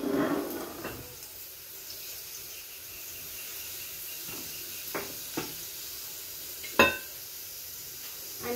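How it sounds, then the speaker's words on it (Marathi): Mustard seeds crackling in hot oil on a gas stove, a soft steady sizzle with scattered sharp pops and one louder crack near the end, fairly close. "मोहरी मस्तपैकी तडतडू द्यायची आहे।"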